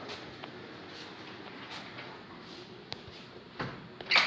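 A newly installed interior door is swung shut, with faint soft knocks in a quiet room and a sharper latch click near the end.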